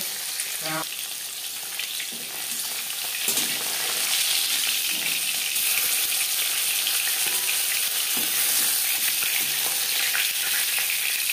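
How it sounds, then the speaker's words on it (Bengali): Rohu fish frying in hot oil makes a loud, continuous hissing sizzle close up, with a few utensil knocks early on and intermittent faint thumps underneath. "মাছ ভাজা হয়ে গেছে"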